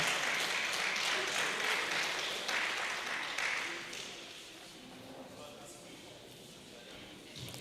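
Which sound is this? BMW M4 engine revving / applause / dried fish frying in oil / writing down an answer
applause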